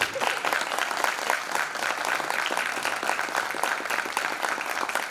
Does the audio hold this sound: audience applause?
yes